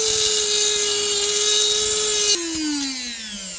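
A high-pitched power cutting tool whines steadily through a bolt on an RC boat trailer, close and loud, its tone dropping suddenly partway as the cut finishes and the tool winds down.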